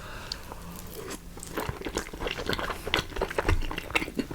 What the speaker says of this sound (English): I'm going to take a massive bite of this.